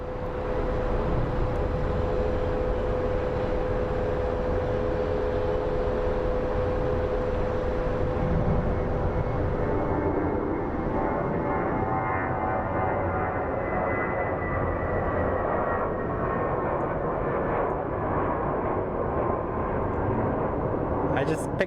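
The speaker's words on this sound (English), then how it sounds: "And then we have WestJet taxiing." A WestJet airliner taxis at Phoenix Sky Harbor airport, giving a steady, distant jet engine rumble and whine that holds throughout, with people chatting nearby.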